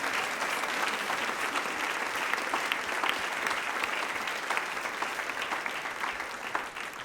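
A church congregation applauding loudly to bless someone in Jesus' name, a sustained, even roar of many hands clapping from start to finish with no voices standing out.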